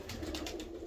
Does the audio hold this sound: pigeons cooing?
yes